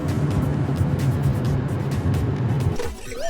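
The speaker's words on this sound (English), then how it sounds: "Pickup car, a car with an open back to carry things." A pickup truck drives past with a steady, close engine drone and road rumble that breaks off near the end into a brief rising and falling tone.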